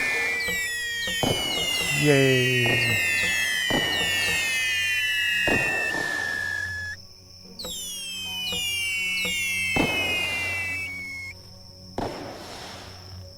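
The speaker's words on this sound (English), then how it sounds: "Let's shoot off some more firework." Fireworks in the VR game cyubeVR whistle upward and pop in repeated bursts, one after another, while a voice cheers briefly.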